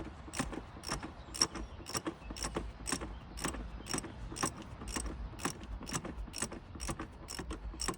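A plastic oil filter is turned onto its threads, giving a quiet run of regular, sharp ratcheting clicks about twice per second, close up and alone.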